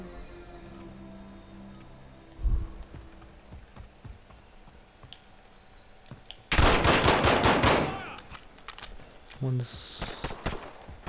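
Rapid automatic gunfire erupts in Modern Warfare, an online 2v2 match, with a loud sustained burst of shots and a few scattered shots before and after, while a player talks briefly.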